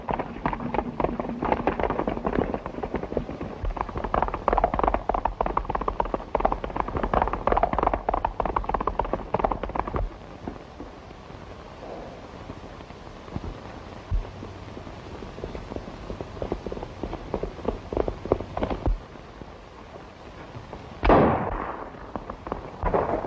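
Gunshots in the Western shooting game Bar-Z Bad Men: a dense burst of sharp, rapid cracks mixed with galloping hooves, then scattered single shots and a louder report near the end.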